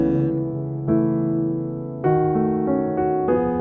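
Sustained piano chords move through a short gospel sequence of diminished passing chords, each new chord struck and left ringing, with no talking.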